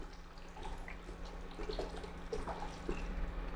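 Water poured into a pot of chole mixture for making gravy, a faint, close splashing and trickling with small drips, brief and quiet.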